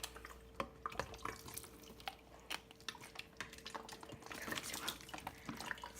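Water poured into a model heart, heard as a faint trickle with irregular drips and small splashes under a low steady hum, close by and without speech.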